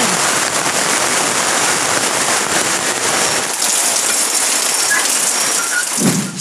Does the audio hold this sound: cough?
no